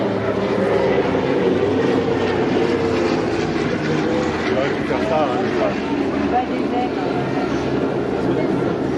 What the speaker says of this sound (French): Ils vont faire le dernier passage et je vous laisserai également filmer, enregistrer le son de ces moteurs